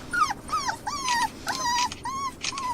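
A pit bull kept on a heavy chain whimpers and cries in a run of high, wavering whines, several bursts close by with short gaps, no talking over them.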